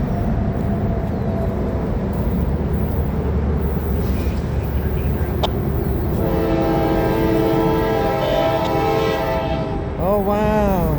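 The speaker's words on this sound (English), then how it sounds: "Got a train coming, let's roll it." A CPKC freight train rolls through a railroad crossing near a GP38-3 locomotive, a loud continuous rumble of wagons joined by a long, strong horn blast, close by.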